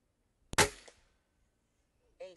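An Air Arms TX200 HC .177 underlever spring-piston air rifle fires a single shot, a sharp close crack with a short ringing decay, followed shortly by a brief faint voice.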